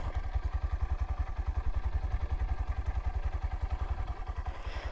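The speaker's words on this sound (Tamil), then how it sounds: "அப்படியே எக்ஸாஸ்ட்டில் வந்து கேட்டு பார்ப்போம்." A 2025 Honda Livo 110 motorcycle putters at the exhaust in a fast, even pulsing idle, recorded up close and steady throughout with no talking.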